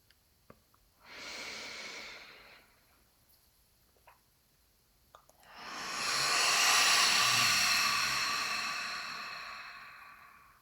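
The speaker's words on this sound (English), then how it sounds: "So let's take a little exhale together here." Two slow, breathy exhales drift out, a short one followed after a pause by a longer, fuller release that swells and fades gently. Both are close and soft, with small clicks between them and no talk.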